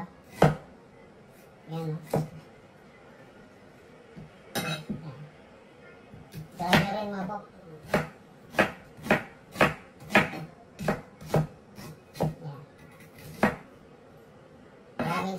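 Knife chopping onions on a board while making Ilocano dinakdakan, with a run of sharp, evenly spaced chops, some bursts quick and others steady, heard close under occasional talk.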